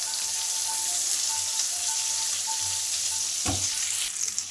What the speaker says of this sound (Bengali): রিং করে কুচিয়ে রাখা পেঁয়াজ, দিয়ে পেঁয়াজটা একটু হালকা লাল করে ভেজে নেব